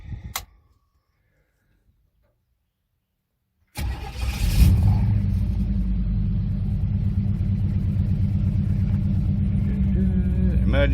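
A 1961 Chevrolet Bel Air with an automatic gearbox fires up after a short silence and settles into a steady, loud, close-up engine rumble as it slips into reverse, with some voice in the background.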